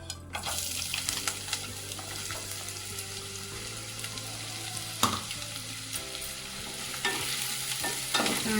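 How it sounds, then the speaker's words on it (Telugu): Frying in a pan for a potato and pea curry, a steady close sizzle with occasional stirring scrapes and clinks, no talking. "ఇది కొంచెం వేగిన తర్వాత ఆనియన్స్ అయితే వేస్తున్నానండి"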